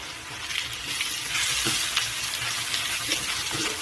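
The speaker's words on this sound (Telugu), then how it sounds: "ఉల్లిపాయలు కూడా వేసుకుంటున్నాను." Onions frying and sizzling in a pan for Telugu-style raw banana fry, a steady hiss with occasional stirring scrapes, close and alone.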